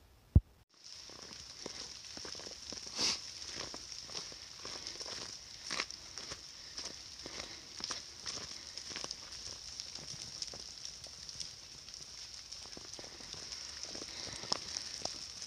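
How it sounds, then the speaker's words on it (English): Ice falling from snow-laden trees pelts a hiker on the Appalachian Trail, heard as scattered light ticks and patters at an irregular pace, faint and close, with no talking. "I am getting pelted by ice fall out of these trees"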